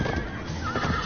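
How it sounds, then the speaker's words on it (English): A horse in the Minecraft Story Mode video game neighs loudly and close, one drawn-out whinny over a dense, noisy game soundtrack with possible hoof clatter. "Slow down, horse!"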